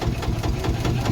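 A boat engine idles and chugs steadily at close range on the water at Murudeshwar, a continuous low mechanical throb with a knocking pulse and no talk over it.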